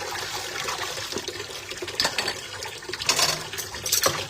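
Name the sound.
running water while washing dishes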